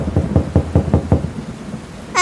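Heavy cartoon rain with thunder: a run of loud, close thunder cracks booms repeatedly over the first second, then fades into steady rain.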